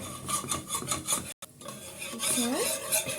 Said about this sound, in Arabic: معلقتين سمنه، معلش معلقتين دقيق، ونقلب